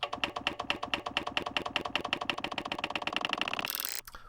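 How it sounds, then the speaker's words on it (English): Rapid, steady clacking from the keyboard of a Commodore VIC-20 with faulty keys, dozens of close, crisp keystrokes in a fast run, cut off by a brief burst of noise at the end. "So I started trying to type on it and I realized the keys aren't working."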